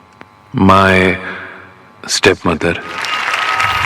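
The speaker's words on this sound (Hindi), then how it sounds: "तालियां बजने लगती हैं" A voice speaks loudly at an award ceremony, then a burst of applause rises and continues as steady, dense clapping.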